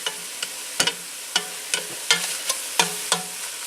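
Sausage meat frying in a pan is stirred around, producing a soft background sizzle broken by about eight sharp knocks and scrapes of a utensil against the pan. The strokes come at an uneven rhythm, close and alone.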